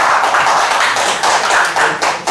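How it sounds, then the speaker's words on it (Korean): Audience applause for a professor at the close of a special lecture in a hall, dense and steady clapping from many hands, loud and sustained throughout with no voices over it. "우리 김정기 교수님께 다시 한번 큰 박수 부탁드리겠습니다"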